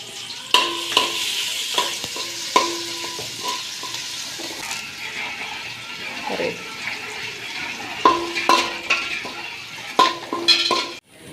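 Crushed ginger, garlic and green chili sizzle in hot oil while a spoon repeatedly stirs and scrapes the pan, giving a steady frying hiss broken by clattering knocks at irregular intervals.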